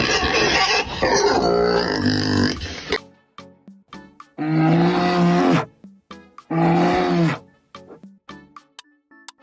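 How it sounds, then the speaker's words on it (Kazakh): Two drawn-out low growls from a bear in an animal sound guessing quiz, each lasting about a second, separated by quiet stretches of regular ticking clicks and preceded by a different rough animal noise. "Аю."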